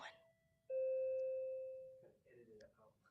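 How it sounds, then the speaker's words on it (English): A doorbell chime rings out clearly, a sustained electronic tone that slowly fades, followed by faint voices in the background. "Oh, excuse the doorbell again."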